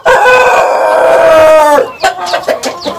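Unfed kampung hens and a rooster in a cheap breeding coop cry out loudly, one long drawn-out call like a crow followed by choppy, rapid clucks, close and noisy with no speech.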